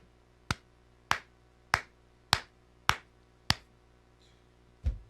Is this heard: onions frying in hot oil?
no